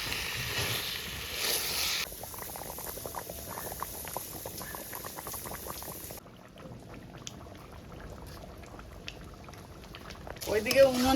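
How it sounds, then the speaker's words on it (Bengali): Chicken curry simmers in a pot, giving a steady, soft bubbling and faint patter throughout, close but quiet, with a brief louder clatter near the end. "মাংস রান্না হচ্ছে"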